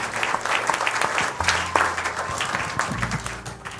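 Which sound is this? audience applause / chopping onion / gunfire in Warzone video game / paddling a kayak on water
audience applause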